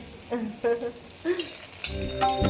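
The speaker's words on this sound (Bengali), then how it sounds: "মালপোয়া ভাজা হচ্ছে।" Sweet malpua batter fries in hot oil in a home kitchen, with soft crackling and sizzling bursts close by and a steadier hiss toward the end.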